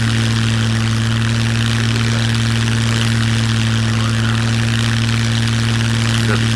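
A propeller airplane engine from the survival game SCUM drones steadily and loudly with a constant low hum and no pauses.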